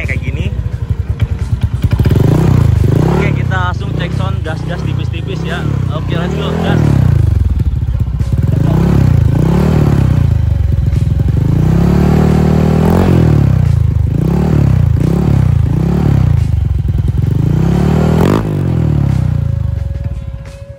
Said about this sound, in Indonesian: suara knalpotnya seperti itu ya kurang lebih